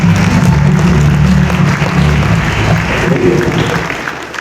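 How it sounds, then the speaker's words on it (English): A business conference audience gives a standing ovation to welcome a speaker, loud dense clapping over a low hum of music or crowd, tapering slightly toward the end. "with a standing ovation and a sounding applause, let us shortly welcome to the stage Honorable Sir Chinedu Anih"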